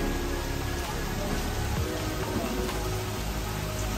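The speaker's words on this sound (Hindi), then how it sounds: "काफ़ी ज़्यादा तेज बारिश आ रही है" Heavy rain pouring down outdoors makes a dense, steady wash of noise that fills the scene without letup, close and loud, with no talking heard.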